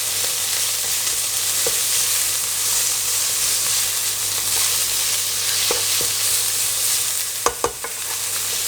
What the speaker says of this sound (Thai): ก็ผัดจนหมูสุกเลยฮะเรียกว่าสุกเลยดีกว่า แล้วเราก็จะได้เกลี่ยให้มันแตกออกมาจากกันด้วยครับ